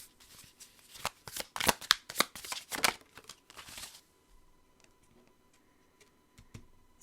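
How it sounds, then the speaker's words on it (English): A deck of tarot cards riffled and shuffled in quick bursts for about four seconds, close and crisp, then a few faint taps in near silence. "let me get a few more cards from this deck before I move on."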